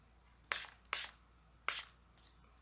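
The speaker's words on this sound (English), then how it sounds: "And then again, spray a tiny bit more." A spray bottle mists water onto Brusho-coloured paper for a holiday card: four short, close hissing bursts, spaced unevenly, with quiet between them and no voices.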